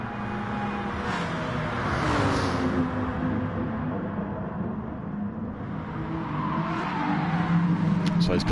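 Lamborghini and BMW race cars roar through a racing video game, a sustained loud engine drone with rising and falling revs as the cars push along a straight, with a commentator talking over it.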